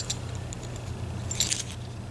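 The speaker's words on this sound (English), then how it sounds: "So again, here's the keys." Keys of a KeyMark by Medeco high-security lock jangle in a short, fairly quiet burst, with a brighter rattle near the middle of the clip over a low steady hum.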